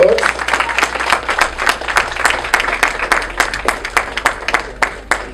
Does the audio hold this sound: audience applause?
yes